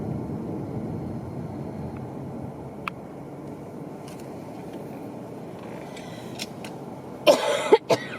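A couple of sharp coughs break out near the end, following a long stretch of steady, low background rumble.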